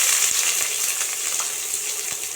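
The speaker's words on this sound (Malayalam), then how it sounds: "അതുകൊണ്ട് അതിട്ട് ഒന്ന് ചൂടായി വരുമ്പോൾ നമുക്ക് ഉള്ളി ഇട്ടൊന്ന് വഴറ്റി കൊടുക്കണം" Onions sautéing in hot oil with cloves and cardamom give a dense, steady close sizzle with faint crackles and a few light stirring clicks, alone and without talk.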